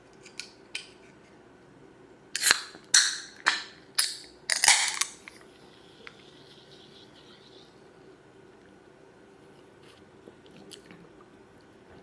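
Crisp bites into a crunchy mango-flavored snack, five or six sharp cracks in quick succession followed by softer chewing, close and loud against a quiet room.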